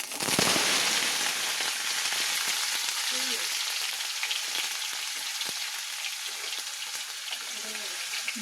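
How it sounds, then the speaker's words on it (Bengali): Paneer pieces fry in hot oil with a bright, dense crackle and spatter, loudest at the start and then settling into a steady sizzle, with no one talking. "তেলটা গরম হয়ে গেছে আমি আগে পনিরটা দিয়ে দিচ্ছি"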